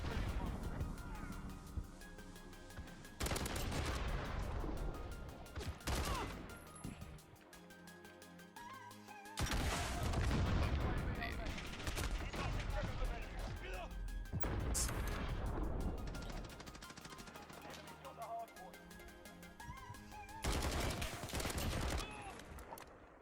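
Repeated bursts of automatic gunfire and explosions fill a Call of Duty Modern Warfare match, loud clusters of shots with brief pauses between them.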